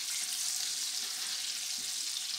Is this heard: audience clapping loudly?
no